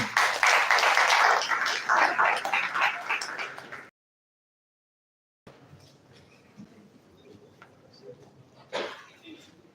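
An audience at Ahmadu Bello University, Zaria, applauds after a speech, a burst of loud dense clapping that fades and cuts out, followed by faint scattered claps and room noise.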